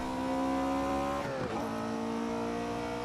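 A Porsche 908LH race car in Assetto Corsa, its engine holding a steady, loud, tonal drone with a brief dip and swoop in pitch midway, as if lifting and shifting, then carrying on alone.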